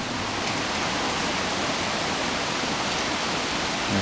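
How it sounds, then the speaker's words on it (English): A steady rain shower pours down in an area under a tornado watch with severe storms nearby, a dense, even hiss of falling water throughout, moderately loud and unbroken. "Pretty good shower."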